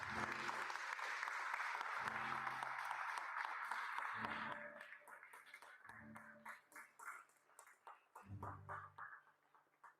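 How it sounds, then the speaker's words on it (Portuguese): Congregation applauding in a church service, a dense burst of clapping for several seconds that thins into scattered, rhythmic claps and fades. "ofereça ao Senhor um forte aplauso, em honra e glória ao seu nome"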